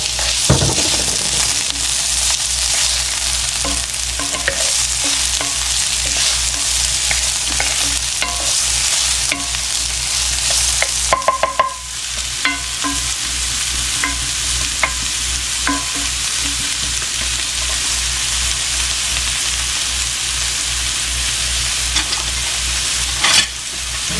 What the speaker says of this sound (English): I'm going to saute the onions in here first. Then I'm going to put my garlic in and saute that for a minute.